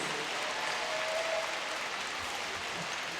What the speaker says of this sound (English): let's give a big round of applause for all our guests